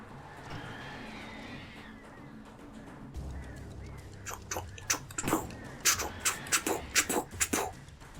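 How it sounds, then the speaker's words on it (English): Birds in the video game Alan Wake Remastered give a run of sharp, quacking, honk-like squawks in a fast rhythmic burst over a quieter, muffled background. "Fuck you, birds."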